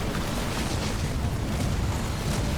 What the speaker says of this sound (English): These anti-building grenades are just insane. Okay, that finishes one base.